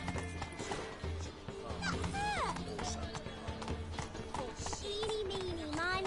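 Roach the horse galloping in a video game, a steady rhythmic clip-clop of hooves throughout, with a whinny-like sweeping cry, swishing effects and a voice speaking over it.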